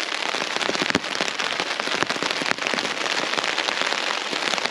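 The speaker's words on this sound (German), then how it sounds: "jetzt wird es so laut, weil der Regen so reinprasselt" Heavy rain drumming loudly on a tarp shelter outdoors, a dense, continuous pattering with sharp individual drop hits, close and intense throughout.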